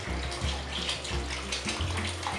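Thirty-two ounces of chicken stock poured into a soup pot of vegetables and potatoes, a continuous heavy liquid splash with a few gulping surges as the carton tips, close and fairly loud with no talking.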